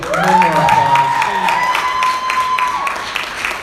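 Audience applause for someone at an Honor Flight of the Quad Cities benefit, a sustained crowd clapping wash with a voice or tonal sound over it.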